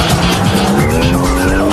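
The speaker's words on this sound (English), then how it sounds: "no matter which track it is, or what car he's driving, he can drift beautifully" A drift car on the Maze Circuit race track in Niigata, Japan, makes a loud, close, sustained tire squeal over a roaring, revving engine from start to finish.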